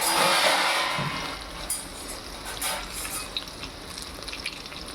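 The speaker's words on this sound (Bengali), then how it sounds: "হালকা একটু ভেজে নিয়েছি।" Chicken pieces frying lightly in oil in a home kitchen: a broad, steady sizzle that is loudest at first and then thins out, with a few faint clinks and stirring sounds near the end.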